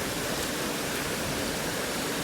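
Fast, racy river water rushing over rocks near a weir pool, a steady close-up broadband roar of turbulent flow with no pauses.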